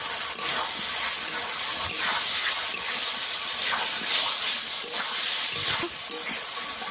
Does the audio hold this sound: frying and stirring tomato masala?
yes